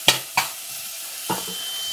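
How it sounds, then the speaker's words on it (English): Onions sauté in a pan with a steady close sizzle and three sharp bursts as they are stirred and tossed, with no talking. "So now we've got the onions all sauteed."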